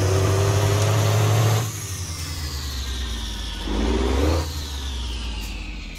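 A car with an automatic transmission revs and whirs at a moderate, fairly close level. The engine note drops as it shifts into gear, then swells briefly before settling again. No one speaks.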